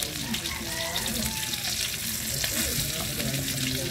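Dried fish dropping into hot cooking oil and frying, a constant close hiss and crackle that holds steady throughout with no speech.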